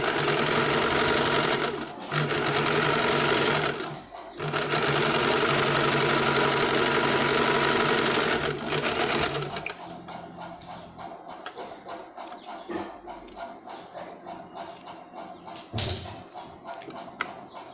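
A sewing machine stitches a fabric sleeve in steady, loud continuous runs, pausing briefly twice, then gives way to quieter intermittent clicking and handling sounds.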